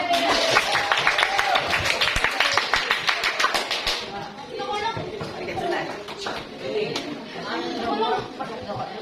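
A school group applauds a quiz winner during a question-and-answer session on adolescent nutrition: a burst of crisp, scattered claps that fades after a few seconds, followed by chatter and a voice talking over the room.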